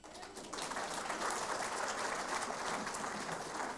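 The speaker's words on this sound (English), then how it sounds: "Now I want you to withhold your clapping" Audience clapping fills the room at a results announcement, rising after a half-second into steady, dense applause that holds loud and even to the end, with no voices breaking through.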